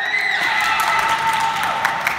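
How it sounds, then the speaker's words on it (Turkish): Children in a school game session clap and cheer for a classmate, a brief burst of scattered applause heard close by with no talking over it. "İrem alkış."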